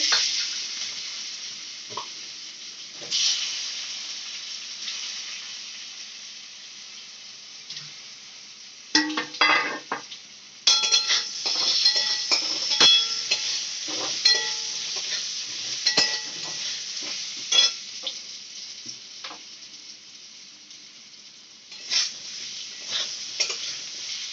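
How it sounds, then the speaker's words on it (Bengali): Potatoes frying in a little mustard oil in a wok give a steady close sizzle, broken by scraping stirs and clattering spatula knocks that come in busy bursts through the middle. "কড়াইতে একটুখানি সর্ষের তেল দিয়ে তার মধ্যে আলুটা একটুখানি ভেজে নিচ্ছে"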